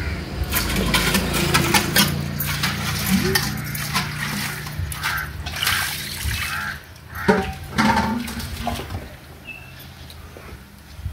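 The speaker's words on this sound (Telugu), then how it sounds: "ఇంక ఇప్పుడైతే గిన్నెలు తోముతాం" Dishes being scrubbed and rinsed with running water in a village home, with splashing water, clattering pots and scraping close by, and a low mechanical hum underneath.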